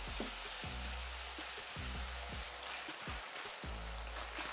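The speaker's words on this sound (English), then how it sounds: "we're going to cook this till it's nice and browned off." Minced beef and pork frying in a pan until browned, a constant dense sizzle with periodic low knocks and scrapes from stirring, close up and without speech.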